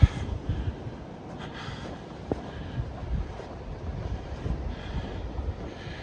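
Blizzard wind blows steadily during a November walk through Regina streets, a low constant rush buffeting the microphone with faint gusty swells and no talk.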